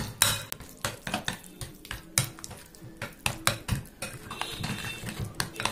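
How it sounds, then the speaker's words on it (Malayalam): A batter of wheat flour, jaggery and mashed ripe banana being stirred in a metal bowl, with repeated scraping clinks and knocks of the spoon against the vessel at an uneven, brisk rhythm, close and fairly quiet. "ഇതെല്ലാം കൂടി നല്ലോണം മിക്സ് ചെയ്യാം."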